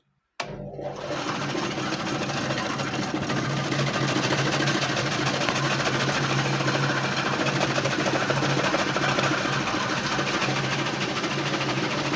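A cabbage cutting machine at a street food shop shreds a large half cabbage with a steady, loud mechanical whir and rattle. It starts abruptly after a short silence and keeps a constant, even drone throughout.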